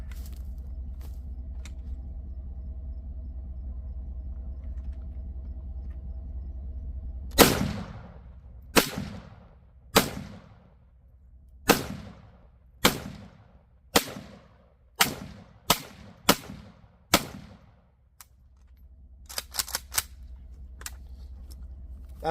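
A PSA AKP rifle fires steel-cased Tula 7.62x39 rounds outdoors: about a dozen sharp, loud shots at uneven intervals, each with a short echoing tail, followed by a quick cluster of faint clicks.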